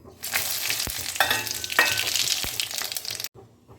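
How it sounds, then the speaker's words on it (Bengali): Cumin, radhuni, dried chilli and bay leaf hit hot oil in a village kitchen, giving a loud sizzling burst with a couple of sharp clicks of a spoon against the pan before it cuts off suddenly. "এবার আমরা ফোড়ন দিচ্ছি। ফোড়ন দিচ্ছি হচ্ছে সাদা জিরে, রাঁধুনি, শুকনো লঙ্কা আর তেজপাতা"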